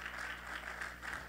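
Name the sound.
congregation applauding in church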